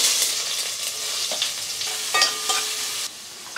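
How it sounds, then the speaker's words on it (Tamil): Onions sizzle steadily in a hot oiled pan for vegetable biryani, close up, with a few sharp clicks and scrapes of stirring over the frying hiss and no talking. "வெங்காயம் போட்டுக்கலாம்."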